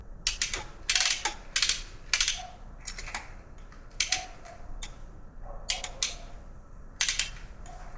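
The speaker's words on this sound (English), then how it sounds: "so we have our torque wrench set to 17 Newton meters" A torque wrench set to 17 newton meters ratchets while tightening a new spark plug on a Volvo XC, giving close, crisp clicking bursts in short uneven runs with brief pauses between them.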